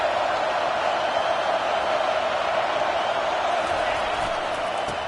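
Broad, steady roar of a college football stadium crowd during a California home game, rising as the defense faces 3rd and goal, a dense wall of cheering holding evenly throughout.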